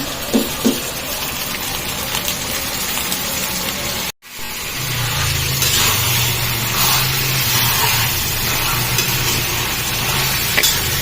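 Chicken pieces dropped into a hot kadai fry with a steady, close sizzle after a brief silent break, a low rumbling hiss building underneath and continuing to the end, with no talking.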